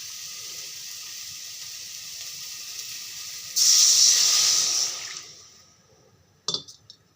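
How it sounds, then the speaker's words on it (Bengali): Water poured into hot frying masala with tomato, a soft background fry giving way to a sudden loud hiss of steam for about two seconds that fades out, followed by a couple of brief utensil clinks. "মশলাটা ভাজা হয়ে গেছে, এখন জলটা দিয়ে দেব।"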